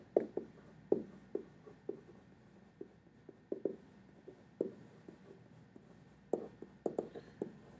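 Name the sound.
writing notes by hand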